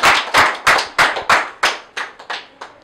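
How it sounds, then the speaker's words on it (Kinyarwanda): A church congregation claps in a steady, loud rhythm, about three claps a second, with sharp separate hand strikes that fade slightly toward the end. "For all those things which God do, let us clap for him."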